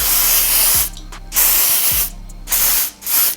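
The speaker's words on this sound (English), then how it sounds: "spray the adhesive onto the tearaway" Three hissing bursts from an aerosol can of adhesive sprayed onto tearaway embroidery stabilizer, each about a second long and separated by short pauses, close and loud.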